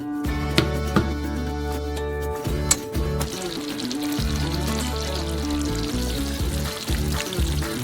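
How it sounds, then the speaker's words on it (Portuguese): A steady bubbling sizzle of caramel syrup cooking in four pots on the stove, with faint clinks, a low hum, and no voices. "Cozinhamos o caramelo por cerca de 10 minutos,"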